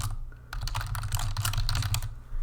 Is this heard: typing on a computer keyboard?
yes